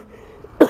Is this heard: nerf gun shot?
no